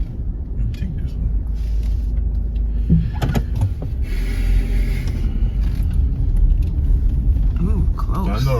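A car creeping into a space in a hotel parking garage, low engine rumble and tyre creaks echoing off concrete, with people talking inside the car.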